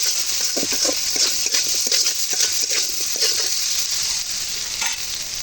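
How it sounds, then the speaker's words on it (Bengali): Boiled potatoes frying with salt and turmeric in hot oil, giving a loud, steady sizzle with occasional stirring scrapes throughout. "এখন আলুগুলো লাল লাল করে ভেজে নেবো"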